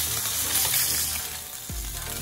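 Tuna searing in a hot pan for tataki, a loud, dense, hissing sizzle that holds steady close up, with a brief low thud near the end and no voices.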